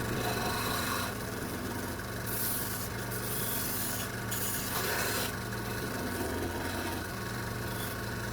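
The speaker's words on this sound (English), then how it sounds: "We'll go back to the Scotch-Brite. Anything we can do to Scotch-Brite that a little bit, maybe?" A Scotch-Brite pad scrubs a three-bladed veggie chopper during restoration, a steady close rasping rub that runs continuously with brief louder bursts of scraping.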